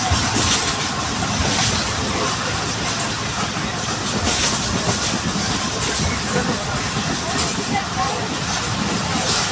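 The Karakoram Express runs loud and close with dense, broadband rattling, rolling and hiss throughout, a continuous roar in which a horn may be blended.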